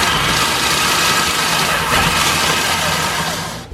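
A food processor pulses graham crackers into coarse crumbs, a steady loud whirring grind with the blades chopping continuously before trailing off at the end.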